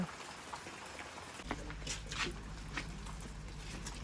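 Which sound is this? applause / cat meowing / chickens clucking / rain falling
rain falling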